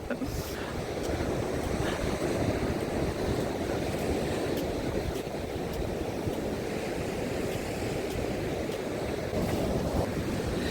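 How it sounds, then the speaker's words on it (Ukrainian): Rough Black Sea surf at Odesa crashes and roars continuously, with wind buffeting the microphone throughout; a steady, loud wash of churning storm waves with no pauses. "як морічка знов штормить і все змиває"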